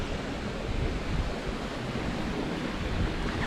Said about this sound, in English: There are very small stream of water flowing down.